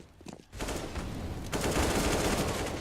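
Counter-Strike match on Inferno with CZ and AK rifle fire: a dense, continuous roar of gunfire that starts abruptly and swells louder partway through, close and steady.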